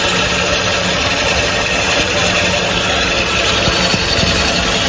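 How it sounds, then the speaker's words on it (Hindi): Hyundai Creta engine running at idle with a faulty clutch release bearing: a loud, close, continuous mechanical drone with a steady vibrating hum. "ये क्लच रिलीज वायरिंग का आवाज़ है, जिसकी वजह से ये नॉइज़ हो रहा है इंजन रनिंग में"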